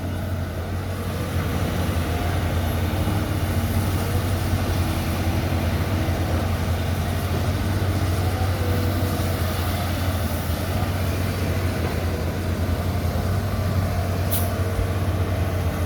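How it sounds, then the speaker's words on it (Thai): Caterpillar 320D2 and 320C excavators with six-cylinder direct-injection diesel engines work on a four-lane road-widening job, giving a steady, loud, unbroken engine rumble and hum throughout, with no voices. "เป็นเครื่องยนต์6สูบไดเรกทั้งคู่นะครับ"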